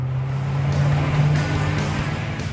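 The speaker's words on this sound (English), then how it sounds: "When you fire up the engine, of course, the cabin fills with engine sound." Koenigsegg 5-litre supercharged V8 running, heard from inside the cabin as a steady, loud bass drone with a deep low hum that holds continuously throughout.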